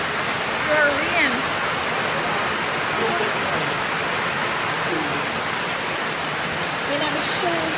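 Steady heavy rain from Tropical Storm Zeta in Jamaica pours down in a dense, even hiss, with muffled voices talking faintly underneath.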